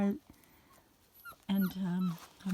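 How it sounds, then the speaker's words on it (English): Puppies outdoors whimpering and yipping in short bursts, with quiet gaps between, close by and fairly loud, a person talking alongside them. "Right now I'm outside with my puppies"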